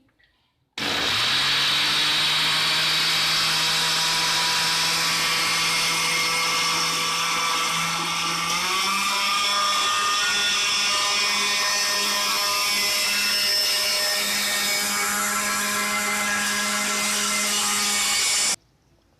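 A mixer grinder whirs steadily as it purees grapes with Sprite, a loud continuous motor whine that steps up slightly in pitch partway through, then stops abruptly.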